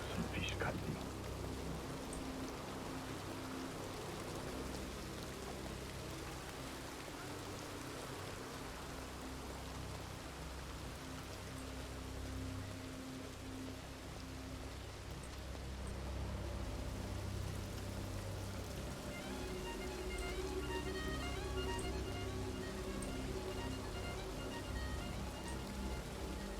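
Heavy rain pours down in a Red Dead roleplay town alley, a constant dense hiss of drops with a low rumble underneath that fills the whole stretch, while faint voices and game sounds occasionally surface beneath it.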